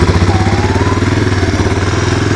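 A 1985 Honda ATC 250SX three-wheeler's engine runs close and loud with a steady, fast pulsing chug, holding an even, low-speed pace without any talk.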